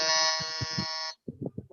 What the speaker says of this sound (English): Please press the buzzer.